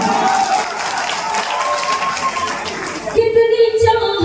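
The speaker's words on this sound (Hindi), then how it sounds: "मैं चाहूँगी एक बार जोरदार ताली आप अपने लिए बजाएं।" Audience at a Hindi poetry mushaira in a nagar panchayat hall claps in a sustained, crowd-wide burst, with music and voices running underneath and a louder stretch toward the end.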